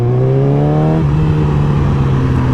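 Yamaha R6 sport motorcycle engine runs loud and close, a steady buzzing drone that drops in pitch after a second as the revs fall, without talking.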